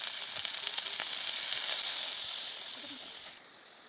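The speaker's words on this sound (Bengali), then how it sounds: "মশলা ভালো করে কষিয়ে নেওয়া হয়ে গেল, এখন আমি এদিকে দিয়ে দেবো নারকেলের দুধ।" Coconut milk added to sizzling fried spices for egg korma sets off a bright, steady sizzling hiss that holds for several seconds, then drops suddenly to a quieter hiss near the end, with no talking.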